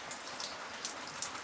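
Steady rain patters onto a tarpaulin shelter over an unfinished house with no roof yet, a dense continuous hiss with occasional sharper drops striking close by, no voices present.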